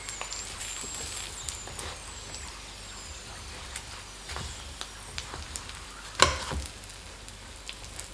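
A potato shred flatbread pan-fries after being flipped, a faint, quiet sizzle with soft scattered crackles and one brief louder scrape or clatter near the end.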